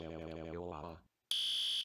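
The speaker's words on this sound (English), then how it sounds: "I can still hear the alarm." A voice trails off, then after a brief gap a loud, piercing electronic fire alarm tone sounds steadily up close during a fire drill.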